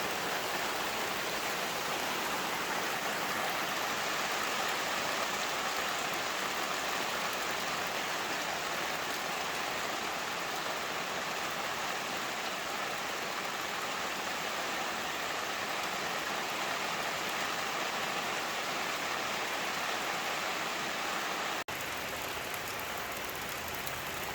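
Steady rain hisses down in a garden, a dense, even wash of drops that carries on without a break.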